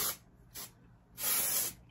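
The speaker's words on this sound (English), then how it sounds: "I will just grab my texture spray and I will just spray this generously" Texture spray misted onto short curly hair in a few bursts: two brief hisses, then a longer, louder spray, close and with no talking.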